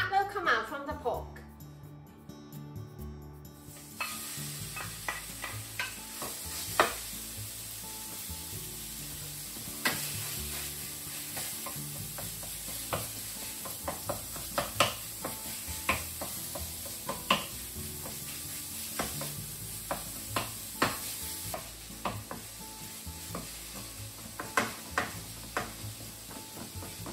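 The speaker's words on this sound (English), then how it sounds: "Heat a frying pan over medium-high heat and let's cook the pork first." Pork frying in a hot pan over medium-high heat with no oil, a steady close sizzle under repeated scraping stirs, while a voice talks over it.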